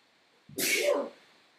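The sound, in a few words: sneeze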